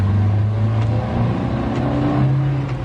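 A car driving fast in a radio drama, its engine a loud steady drone with a low hum holding close and unbroken throughout, no voices over it.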